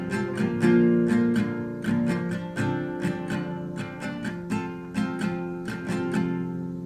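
Acoustic guitar strumming the intro chords of a song: rhythmic, evenly paced down-and-up strokes with crisp percussive attacks, ringing chords played close and clear with no voices.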